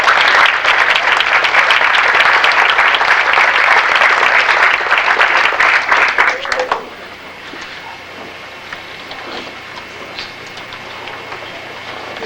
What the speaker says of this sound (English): another big round of applause for these Tyro kids.